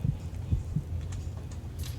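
A deep, muffled heartbeat thumps in the video game NORD, a few low throbbing beats over a soft hum, close and fairly loud.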